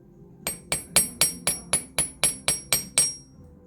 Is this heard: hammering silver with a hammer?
yes